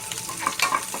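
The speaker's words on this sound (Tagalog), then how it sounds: "ngayon, gigisahin muna natin yung sibuyas saka bawang" Onion and garlic sautéing in a pan for Filipino caldereta, with a bright crackling sizzle and a few quick scrapes of stirring, close and fairly loud.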